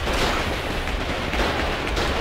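Artillery fire during a large base assault in the war game Foxhole, a dense roar of continuous booms and crackling bursts close by, loud and unbroken throughout.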